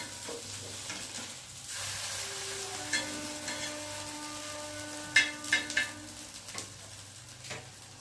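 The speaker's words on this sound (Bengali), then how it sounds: "গাওয়া ঘি দিয়ে ভেজে নেওয়া হচ্ছে পিঠেটা।" Patishapta pitha frying in pure ghee, with a soft, steady sizzle and a few sharp scraping clinks of stirring close by near the end.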